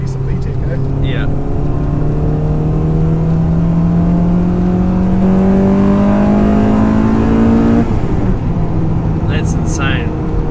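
Honda Integra Type R engine revving hard with VTEC, the pitch climbing steadily for several seconds up to about 6,500 RPM before dropping off, loud and close with a brief bit of talk near the end.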